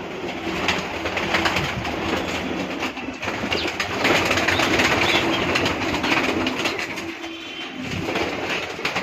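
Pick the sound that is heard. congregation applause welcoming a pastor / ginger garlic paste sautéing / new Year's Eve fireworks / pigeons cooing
pigeons cooing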